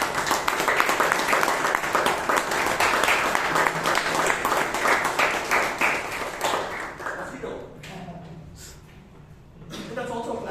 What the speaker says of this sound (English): A big round of applause for Girish.